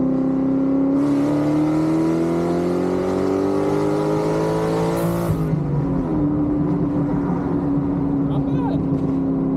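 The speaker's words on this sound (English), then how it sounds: "First time I've ever floored the car." A 1999 Kenne Bell Cobra engine is floored at full throttle, its loud rising roar climbing steadily for several seconds before easing back, with a voice speaking briefly over it.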